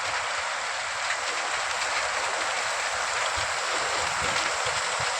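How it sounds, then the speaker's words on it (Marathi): Steady, dense hiss of heavy rain pouring down in a village, loud and continuous with no voices, a constant wash of noise throughout. "लय पाऊस चालू आहे जोरात"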